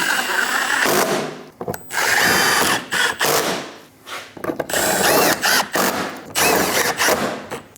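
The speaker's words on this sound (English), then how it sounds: "installing all of the bolts for the bumper." A power tool driving the front bumper impact absorber bolts on a Dodge Durango, loud repeated whirring bursts of the drill-driver with short pauses between each bolt, close and alone.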